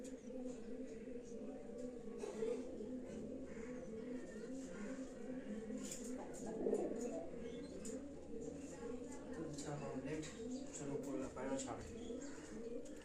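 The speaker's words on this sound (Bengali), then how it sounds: "চলো উপরে পায়রা সব ছাড়ি" Pet pigeons in a rooftop loft coo in low repeated bursts, with faint chirps and a person talking over them throughout.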